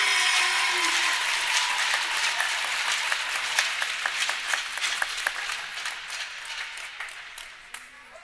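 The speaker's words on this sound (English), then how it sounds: "give them one more round of applause" An audience at a senior recognition for a hockey team applauds steadily, with dense clapping that gradually fades toward the end.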